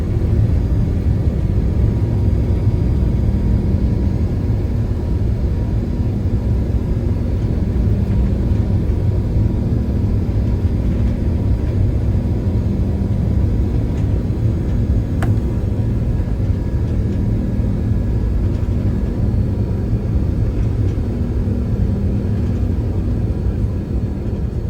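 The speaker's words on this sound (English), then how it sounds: "One of the greatest aspects of the A380 is how quiet it is. You hardly even notice the takeoff roll." Steady, loud low cabin rumble inside an Etihad Airways Airbus A380 during the takeoff roll and climb out of Abu Dhabi, a continuous engine and airflow roar with no distinct events and no talking.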